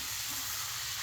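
Whole spices with split cardamom and coriander leaves sizzle in a pan while being stirred, a brief, dense, steady hiss with a low rumble underneath.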